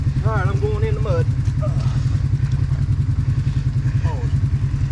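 Can-Am off-road side-by-side driving into mud, its engine a loud, steady, throbbing drone up close, with a brief voice early on.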